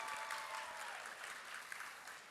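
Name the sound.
audience applause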